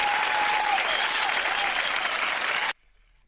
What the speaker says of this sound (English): You deserve applause.